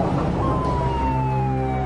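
An ambulance siren wails loudly and close in one steady falling sweep, over the rumble of traffic.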